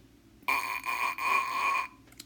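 A steady buzzing tone with a strong, reedy pitch from lips buzzing into a brass mouthpiece, held for over a second, briefly breaking once, then resuming before stopping; fairly loud and close.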